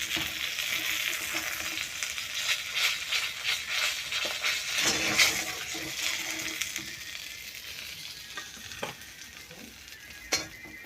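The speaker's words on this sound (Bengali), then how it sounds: "এরপর একইভাবে পরের মাছগুলো ভেজে নেব।" Rohu fish pieces fry in hot oil with a continuous close crackling sizzle, occasional pops and stirring scrapes, steady and fairly quiet throughout.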